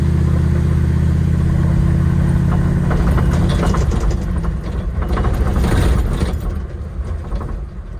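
A Jeep Wrangler TJ with a swapped 5.9 Magnum V8 and a check engine light on strains up a small slope, its steady low engine drone rising into louder, rougher revving near the middle before easing off, with no talk.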